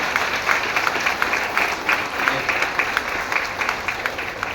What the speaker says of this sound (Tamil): ஒரு உற்சாகமான கைத்தட்டலோட நல்லாவே கைத்தட்டல் இருக்கோம்னா